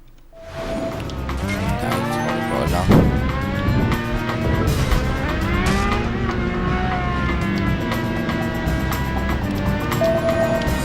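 A Lamborghini roars through a driving video game, its engine note sweeping up and down through repeated gear changes with game music or effects layered over it, loud and continuous.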